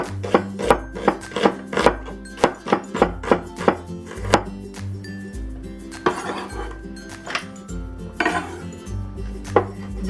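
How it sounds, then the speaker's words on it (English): A knife slicing an onion on a chopping board, a quick series of sharp, close knocks in bursts with short pauses between, occasional light clinks mixed in. "Next, we'll slice the onion."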